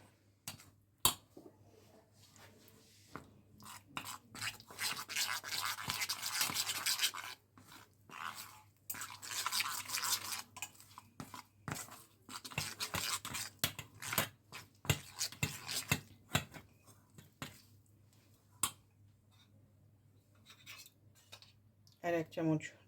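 A whisk works through an eggless chocolate pie mixture in a bowl: brisk, rhythmic scraping and clinking strokes come in bursts with short pauses, close and fairly quiet, with no talking.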